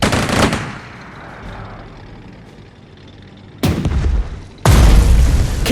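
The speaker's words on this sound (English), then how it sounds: "Firing the heavy caliber!" Heavy-caliber tank gun fire in the strategy game Strategic Mind: Spectre of Communism: a loud blast with rumbling decay, then two more sharp booming shots close together near the end.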